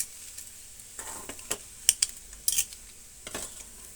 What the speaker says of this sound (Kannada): ಆಲೂಗಡ್ಡೆ ಪಲ್ಯ ಚೆನ್ನಾಗಿ ಮಿಕ್ಸ್ ಮಾಡಿಕೊಂಡ ನಂತರ ಕೊತ್ತಂಬರಿ ಸೊಪ್ಪನ್ನು ಸ್ವಲ್ಪ ಉದುರಿಸ್ಬಿಟ್ಟು ಅದನ್ನು ಕೂಡ ನೀಟಾಗಿ ಮಿಕ್ಸ್ ಮಾಡ್ಕೊಳ್ಳೋಣ